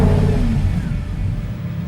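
A Lamborghini Huracán's naturally aspirated V10 engine starts and rumbles loudly and steadily with a deep low growl, revving briefly at the start then settling into a strong idle, with no talking.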